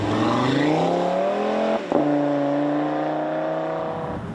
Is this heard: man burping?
no